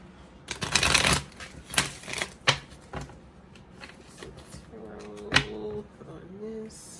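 Tarot cards are shuffled in a few quick riffling bursts, close and crisp, followed by softer handling sounds and a brief voice underneath.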